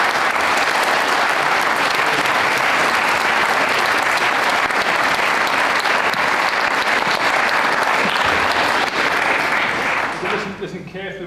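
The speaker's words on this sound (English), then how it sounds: "can we give a round of applause to our panellists for the stage?" Sustained applause from a school audience in a hall for panellists at a question time event, dense and steady clapping that runs the full length before thinning out near the end.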